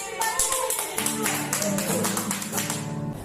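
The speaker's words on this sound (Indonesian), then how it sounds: "Tepuk tangan." Hands clap at an online Sunday school service, giving a quick run of sharp, fairly faint claps mixed with singing and music.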